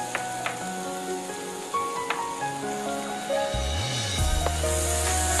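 Onion being sautéed in butter in a pan, a steady close sizzle with light crackle that continues throughout, with kitchen clatter and no one speaking.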